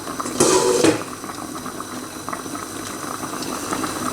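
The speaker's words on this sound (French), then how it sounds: "Il ne faut pas couvrir le haut du couscoussier, il faut le laisser comme ça, laisser la vapeur s'échapper." Water boils beneath a couscoussier, steaming rechta in the uncovered top, with a steady bubbling and a brief louder gurgling surge near the start, close and without talk.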